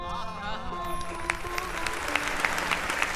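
Audience clapping at a poetry event with Dr. Kumar Vishwas, building from a sustained tone into dense, lively applause with sharp individual claps and some crowd noise.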